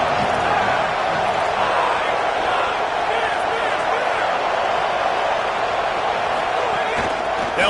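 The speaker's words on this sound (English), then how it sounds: "This crowd ready to make its presence known." A stadium crowd in a college football video game roars continuously at a loud, dense level, under a commentator's voice.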